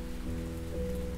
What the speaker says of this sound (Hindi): ये जोरदार बारिश और उस पर